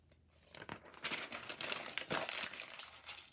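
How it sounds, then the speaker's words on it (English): Paper or wrapping is crumpled by hand before going into a bag, a run of close, crackling crinkles that grow denser midway and then ease off, with no talking. "I'm going to crumple that up, put it in the bag."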